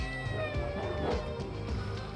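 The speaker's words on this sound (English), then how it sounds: "Chicken stealing cat!" A cat that steals chicken while travelers backpack in Peru lets out a drawn, wavering meow, close but partly buried under loud, busy background noise.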